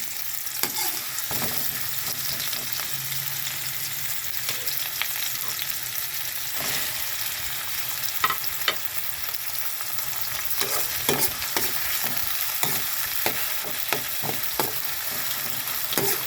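Garlic sizzles in a pan as it is stirred for a mung bean dish. A constant loud hiss carries the whole clip, crossed by frequent scraping stirs and knocks of a utensil against the pan.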